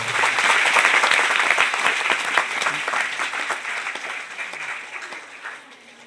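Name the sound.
audience applause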